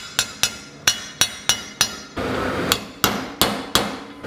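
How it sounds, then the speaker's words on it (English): Sharp metallic hammer strikes on an old socket, driving bearings into a Kawasaki KX250 engine, ring out about a dozen times at an even rhythm, with a brief burst of scraping noise midway. "we're just gonna get those easily installed with a hammer and old socket"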